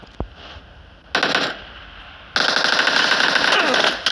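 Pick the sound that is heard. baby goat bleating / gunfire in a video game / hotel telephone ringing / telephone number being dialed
gunfire in a video game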